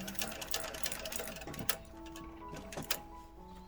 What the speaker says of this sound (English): We're going to be sewing 1/4 of an inch seam allowance.